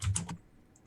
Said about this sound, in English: I'm typing in the chat here.